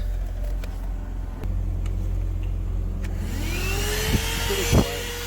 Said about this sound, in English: I have to start the vehicle in order to do this.